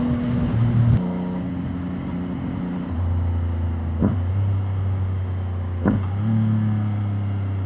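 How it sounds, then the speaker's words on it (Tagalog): A motorcycle engine idling through a new stainless steel muffler, with low droning tones and a few sharp revs spiking briefly, no voices. "ayan po ang tunog ng bago nating"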